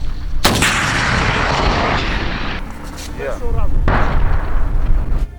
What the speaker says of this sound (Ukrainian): Хлопець, який наразі не стріляв з гранатомета, з першого пострілу вразив ціль